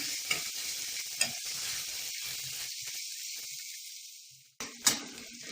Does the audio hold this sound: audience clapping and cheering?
no